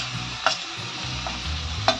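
Asafoetida and mustard seeds sauté in hot oil for a spicy potato bhaji, a steady soft sizzle broken by a couple of sharp spoon taps against the pan.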